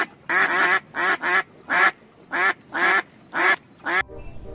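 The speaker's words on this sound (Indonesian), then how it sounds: "Ada seekor bebek." A white duck quacks loudly in a regular series of about eight evenly spaced, raspy calls, close by with nothing else over it.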